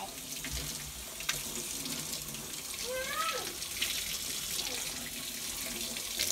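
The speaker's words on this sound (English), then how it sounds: "And I rinse this out from the inside, from the outside." Water runs from a kitchen tap as a coffee maker carafe is rinsed inside and out, a steady broadband rush with a few clinks and shifting splashes close by.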